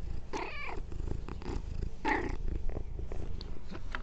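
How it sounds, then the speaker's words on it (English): A cat purrs loudly right against the microphone in a rough continuous rumble, with a couple of short meow-like chirps mixed in. "Purring in the microphone."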